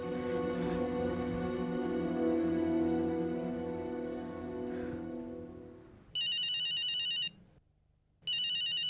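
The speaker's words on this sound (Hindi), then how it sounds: "फोन उठाइए सिमरन" A sustained tone fades out, then an electronic telephone ring sounds twice with a short gap between bursts, clear and close.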